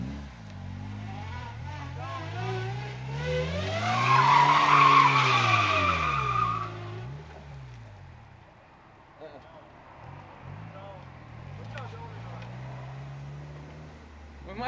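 A car skids through a handbrake turn, its engine note rising and falling in a long sweep while the tires scrub across the surface, with people talking over it.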